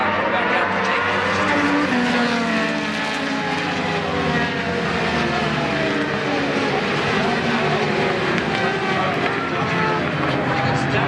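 Racing motorcycle engines roar together at a MotoAmerica race start at The Ridge, a dense, continuous, loud wall of high revs with shifting pitches from many bikes.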